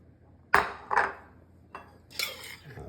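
A serving spoon scoops spanakorizo onto a plate, giving four distinct clinks and scrapes of metal on ceramic that are close and moderately loud, with quiet pauses in between.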